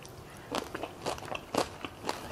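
Crispy fried mixed seafood being bitten and chewed up close, with four or five sharp crunchy bites spread evenly over a couple of seconds against a quiet background, no talking.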